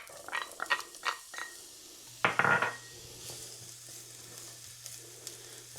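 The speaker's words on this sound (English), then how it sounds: "I've added some olive oil, and we're just going to go ahead and saute our onions in here" Onions sautéing in olive oil in an iron skillet, a soft sizzle broken by a few brief clinks and stirring scrapes, with one louder burst of activity partway through before settling into a low steady fry.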